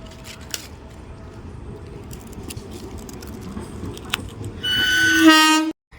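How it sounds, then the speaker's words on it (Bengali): A train pulling into a quiet, empty rural station: a low rolling rumble builds steadily, then loud nearby horn blasts sound before a sudden cutoff. "তো এই যে ট্রেন"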